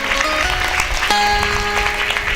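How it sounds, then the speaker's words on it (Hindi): Loud, dense applause from an audience at a religious Bhagwat katha gathering honouring a donation, a continuous roar of clapping with a faint musical tone sustained underneath. "जोरदार तालियां बजाएंगे"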